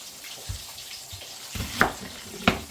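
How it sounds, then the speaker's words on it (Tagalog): Vegetables are washed under a running kitchen tap. Soft water splashing is broken by a few sharper splashes and knocks near the end. The sound is close and brief, with no talking. "kailangan natin hugasan ng maigi yung gulay natin"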